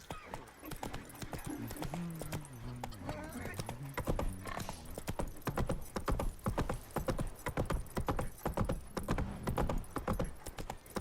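Roach the horse gallops in The Witcher 3: Wild Hunt, hooves pounding in a fast steady rhythm, close and loud, with a voice speaking over the first few seconds.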